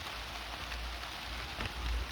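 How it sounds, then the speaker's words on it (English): Water dripping off a box gutter and running down a door frame, heard as a steady soft patter of drops like light rain, close by, with a low rumble underneath and slightly heavier drips near the end. "We've got water dripping off the box gutter here"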